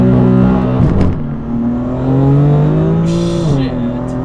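A BMW M4 CS with a burble exhaust tune revs hard and accelerates in first gear, its engine note climbing steadily then dropping at a shift, loud and close with a crackle near the end.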